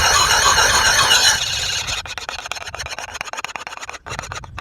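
Metal file rasping along the edge of an old garden hoe, a dense steady scraping that shifts partway through to a finer, choppier stroking rhythm as the finer side of the file is used, close and loud.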